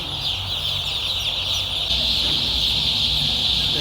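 Crate of around a hundred young chicks on a poultry farm, producing a dense, continuous high-pitched chorus of peeping that stays steady and fairly loud over a low background rumble.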